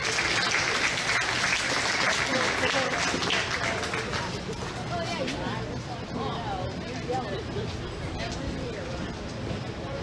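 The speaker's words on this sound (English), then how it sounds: "let's give this class a round of applause" A crowd applauds at a county fair livestock show ring, with steady clapping spread across the room and general crowd chatter underneath. The applause is loudest at the start and eases slightly toward the end.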